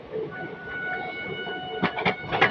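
Rumbling noise of the Jaynagar–Amritsar Express passing Laheriasarai railway station, with a steady hum and faint tonal whine, broken near the end by a few sharp rhythmic clacks from the wheels.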